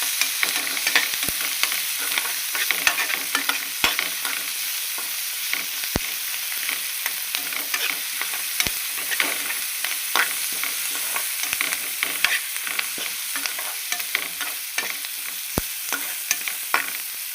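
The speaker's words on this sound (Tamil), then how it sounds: "வெங்காயம் நல்லா வதக்கணும்." Onions sauté in a pan with salt for a cauliflower chicken gravy, giving a steady sizzle and frying hiss with scattered sharp clinks of a spoon stirring, and no voices.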